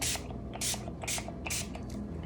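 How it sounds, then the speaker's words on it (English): A spray bottle spritzes rubbing alcohol onto freshly poured soap, four quick hissing bursts in an even rhythm followed by a fainter fifth, close and crisp with a low background hum and no speech. "we're gonna spray it with some rubbing alcohol, of course, to help prevent"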